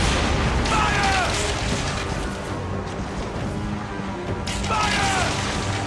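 Naval weapons boom and crash during a ship battle in Assassin's Creed Origins, heavy continuous rumble with impacts, with a voice and whistling tones over it.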